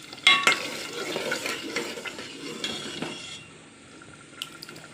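Dal and spinach stir-fried in ghee give a close sizzle and scraping stir, busiest early with a sharp clatter near the start, then easing to a quieter hiss with a few light knocks.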